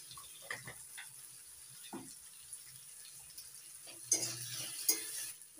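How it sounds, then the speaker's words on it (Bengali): Chopped tomatoes being stirred in a pan for bean bhorta: soft, intermittent scraping and gentle sizzling close by, quiet overall, with a few louder stirring strokes near the end. "টমেটো কুচি দিয়ে একটু নাড়াচাড়া করে নিই"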